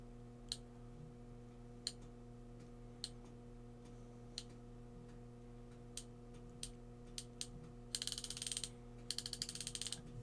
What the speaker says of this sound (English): Definitely the smoothest ratchet I have felt in a screwdriver thus far